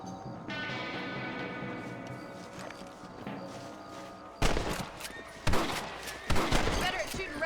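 Rifle shots ring out in the Western game Red Dead Redemption as rabbits are hunted, three sharp loud cracks in the second half after a stretch of music and background ambience.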